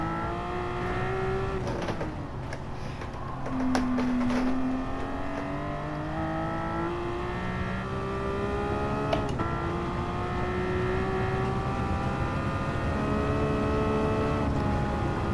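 A Porsche engine in a racing video game drones and revs steadily as the car drifts, pitch rising and falling with throttle changes over a long continuous stretch with no talking.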